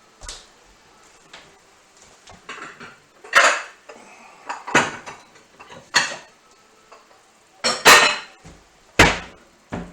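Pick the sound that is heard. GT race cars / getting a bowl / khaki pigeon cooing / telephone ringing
getting a bowl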